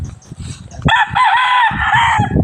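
A rooster about four months old crows once, loud and close, a long wavering call that follows soft clucking from nearby chickens, with clucking resuming afterward on a farm.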